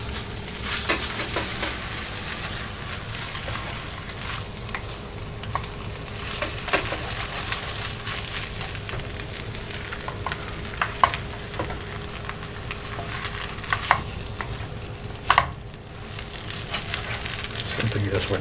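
Mee hoon noodles stir-fried in a pan, a steady close sizzle with scraping stirs and occasional sharp clinks of the utensil, a faint voice now and then.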